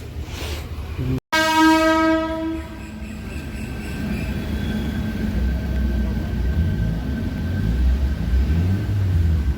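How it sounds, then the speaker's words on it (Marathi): A goods train passes nearby: a loud horn blast at the start, then a continuous heavy rumble and clatter of wagons rolling by without a break. "अरे बापरे, मालगाडी. कधी संपते बा."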